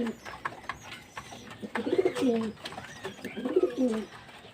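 Soft, repeated cooing from pigeons in a loft at feeding time, two clear rolling coos standing out over faint background chatter of the flock.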